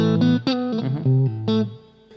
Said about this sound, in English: The second one is with the boost on.